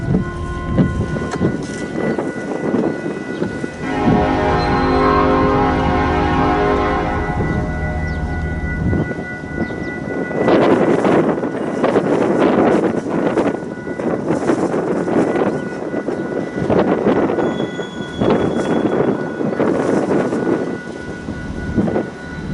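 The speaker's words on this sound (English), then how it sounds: "Super windy day today." Strong wind roars and buffets against the microphone outdoors by a rail line in Fremont, Nebraska, a loud continuous rumble with gusting surges and a brief tonal drone partway through.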